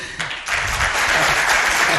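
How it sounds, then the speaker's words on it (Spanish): A studio audience on a radio programme applauds a departing guest, a dense wash of clapping swelling up after a brief quieter start and holding steady. "Os pido un aplauso para él."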